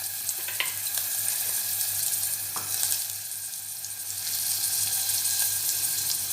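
Vegetables with carrot sizzle steadily in a pan for a baby's dal soup, a continuous close frying hiss with faint stirring clinks and no talk.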